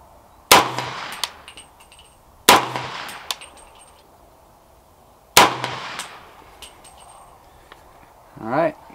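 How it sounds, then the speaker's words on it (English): Three unsuppressed shots from a 300 Blackout rifle firing Remington Supersonic ammunition, each a sharp loud crack with a ringing tail, evenly spaced a few seconds apart outdoors. "this is going to be the first shots fired out of my latest 300 Blackout build"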